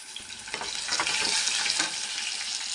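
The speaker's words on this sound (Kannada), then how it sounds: "ಇದನ್ನು ಚೆನ್ನಾಗಿ ಫ್ರೈ ಮಾಡ್ಕೊಳ್ಳಿ" Chana dal, urad dal, green chilli and curry leaves frying in hot oil give a steady, bright, close sizzle that hisses continuously with no voices.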